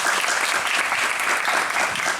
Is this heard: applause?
yes